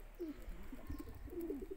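A young grey pigeon in a pigeon loft gives soft low coos, a couple of short murmuring calls spread over the moment, faint and close against quiet background hiss.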